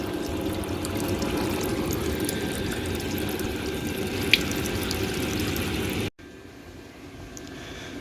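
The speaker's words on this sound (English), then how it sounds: "It's just going absolutely everywhere. It's like water almost." Thin hydraulic oil pours steadily out of a Chinese mini excavator with a continuous watery splashing stream, close and even, ending in an abrupt cut.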